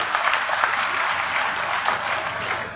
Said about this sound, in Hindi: ऐसे हमारे होने वाले मुख्यमंत्री के लिए जोरदार तालियां